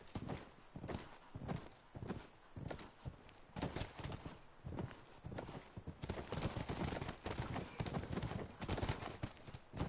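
A horse's hooves clip-clop steadily in The Last of Us video game on Grounded mode, with rhythmic, moderately close footfalls continuing throughout amid soft ambient game sound.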